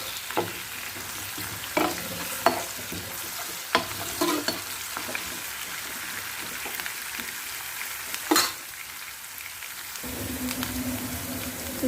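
Capsicum fries and is stirred in a pan for egg fried rice, a dense close sizzle with intermittent scraping and clanks of the spatula, settling into a steadier hiss near the end.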